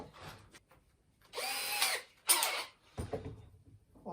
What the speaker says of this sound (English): I'll start off with a pilot hole.